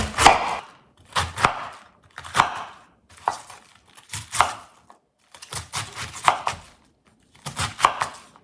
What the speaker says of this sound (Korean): 양배추는요 그렇게 작게 자를 필요는 없어요. 적당한 크기로 자르면 되겠습니다.